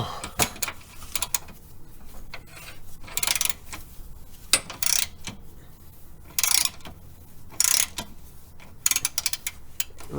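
A ratchet fitted with an 18 millimeter socket clicks in quick bursts while working a bolt loose on a 1999–2004 Jeep Grand Cherokee WJ, with sharp metallic bangs and pauses between strokes.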